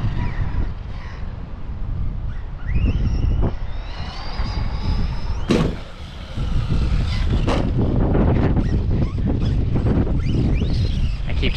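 Arrma Kraton 4S V2 RC truck driving on dirt, a loud whining electric motor rising and falling with wind buffeting and rough rolling noise, near the microphone, with brief talk over it.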